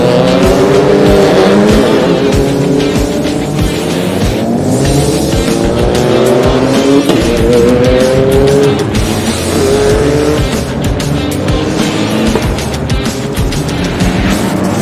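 Race cars roar loudly and continuously at a Toyota Gazoo Racing endurance race, with engine tones rising and falling as cars pass close by and a tire squeal now and then.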